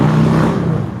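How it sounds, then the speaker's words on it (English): A Harley-Davidson motorcycle engine revs with a deep, loud, throaty rumble, a single sustained burst heard alone and close. "Now that's the sound of a Harley."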